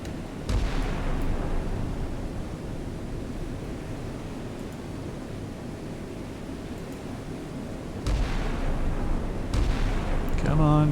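Missiles launch in the naval combat game Sea Power, a sustained roaring rush of rocket exhaust with sharp onsets near the start and again toward the end, loud and dense.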